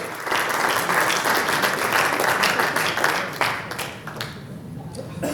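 An audience applauds as a speaker is brought up, a loud, dense round of clapping that eases slightly toward the end, with a few voices mixed in.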